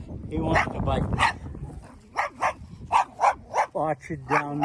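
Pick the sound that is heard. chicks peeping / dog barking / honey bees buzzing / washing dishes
dog barking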